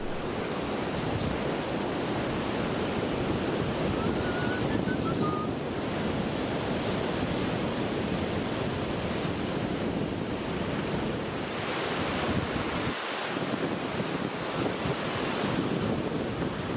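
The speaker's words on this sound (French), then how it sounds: "Même si les vagues sont un peu grosses, c'est vraiment une belle plage" Heavy ocean surf breaks continuously on the beach at Playa Cocles near Puerto Viejo, with fairly big waves washing in as a loud, steady roar mixed with gusting wind buffeting the microphone.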